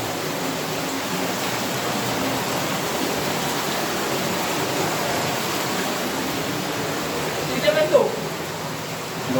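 An underground river flowing inside Giant's Hole cave gives a steady, full rushing roar that stays even throughout, with a brief small disturbance near the end.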